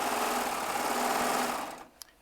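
A serger runs continuously at high speed while piecing quilt top pieces, a dense close whir that stops abruptly near the end and leaves a single small click.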